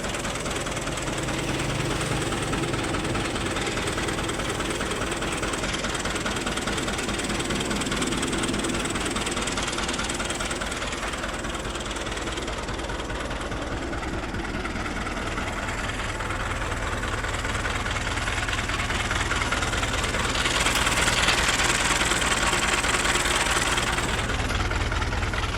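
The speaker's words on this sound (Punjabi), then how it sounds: "ਮਕੈਨੀਕਲ ਇੰਜਨ ਦਾ ਬਹੁਤ ਫਿੱਟ ਆ ਟਰੈਕਟਰ" A 1987 Fiat 640 tractor with a mechanical engine, reported to have a noise from its rear section, idles with a steady, close, unbroken rumble for the whole stretch, with no talking.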